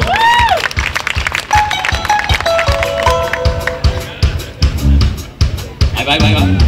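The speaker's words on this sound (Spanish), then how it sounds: "¡Fuerte el aplauso!" A crowd claps and cheers for a member of a country band at a live show, with rhythmic hand claps mixed with loud shouting voices and musical tones throughout.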